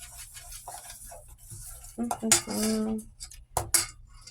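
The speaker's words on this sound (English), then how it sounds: "let's give this a stir" A spoon stirs chocolate chip banana bread batter in a bowl, with soft scraping and a few sharp clinks of utensil against the bowl, close and intermittent in a quiet kitchen, with brief faint voice sounds.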